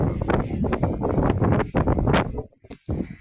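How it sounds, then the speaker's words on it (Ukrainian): Strong wind gusts buffet an outdoor microphone in a garden among miscanthus grasses, a dense rumbling roar that surges and drops in short bursts. "Бачите, який вітер."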